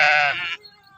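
One sheep lets out a single loud, close bleat lasting about half a second that fades into quiet rustling, at a pilgrimage site where devotees tend a flock.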